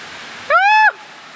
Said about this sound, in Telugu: చూడండి, వాటర్ అంతా పైనుంచి పడతా ఉంది కాబట్టి